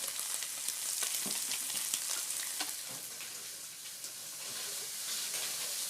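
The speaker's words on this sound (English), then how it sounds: "so I'm going to add an onion. This is one medium white onion." One medium white onion frying in a pan with crisping ingredients, a dense steady sizzle with scattered pops and crackles, close and continuous with no one speaking.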